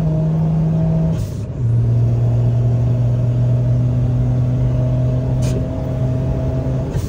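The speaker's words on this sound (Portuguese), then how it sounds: "já vamos dar mais acelero" A VW Up TSI with a stage 2 tune and hybrid water pump revs steadily under acceleration, a loud sustained engine drone with a brief dip near the start before climbing back, close and continuous with no talk.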